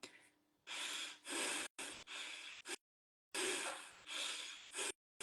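Slow, deliberate breaths in and out, each a rushing airy stroke separated by brief silences, close and unhurried.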